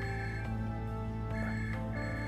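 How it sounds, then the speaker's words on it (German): A telephone rings in the video game Save Koch, a steady electronic tone repeating under a constant game music bed. "Schon wieder Telefon."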